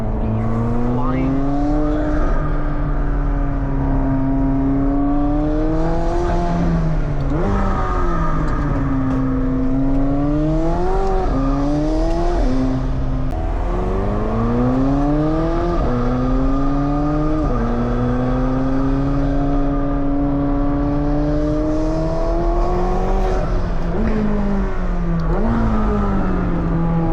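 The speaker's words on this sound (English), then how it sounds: "Definitely more turbo sound." McLaren 720S or 750S supercar engine revving with audible turbo whoosh, rising and falling in repeated loud pulls that run continuously up close.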